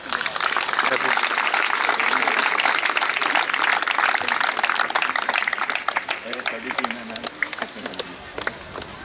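Applause from a crowd at a blind cricket event ground, sustained clapping across the field mixed with a voice talking over it, loud and continuous before thinning toward the end.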